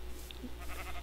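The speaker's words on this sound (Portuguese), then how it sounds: "Ovelhas" Sheep in a video game bleat briefly, a couple of short wavering cries, close and clear over a low steady hum, with no talk.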